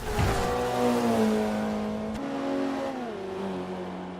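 A KTM race car engine in the racing video game Forza 5 drones loudly at high revs, with pitch shifts as it changes gear and begins to ease off.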